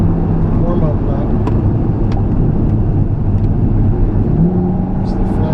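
Race cars run a warm-up lap at the National Corvette Museum Motorsports Park, engines droning steadily with low rumbling tones and shifting revs, the sound continuous and fairly loud.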